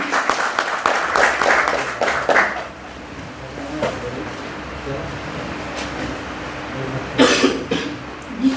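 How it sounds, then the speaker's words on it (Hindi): Applause from an audience at a community gathering welcoming senior Supreme Court advocate Rajendra Pal Gautam to speak, a burst of clapping that fades after a few seconds, followed by quieter room noise and another short flurry near the end. "जोरदार ताली"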